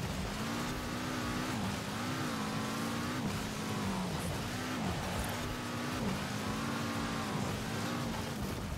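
A LEGO Mini taxi drifts in Forza Horizon 4, its engine droning and revving up and down in a continuous, steady roar heard up close.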